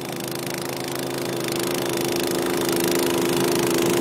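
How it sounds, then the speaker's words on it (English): A snow blower running up on a snow-covered roof, a steady mid-distance engine drone with a constant hum that grows slightly louder over a few seconds, with no talking. "Kurt, there's Colin, snow blowing."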